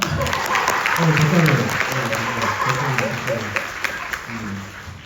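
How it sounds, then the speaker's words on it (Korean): Audience applause at a live music talk event, steady clapping that runs beneath voices talking over it across the whole stretch. "박수 한 번 주세요"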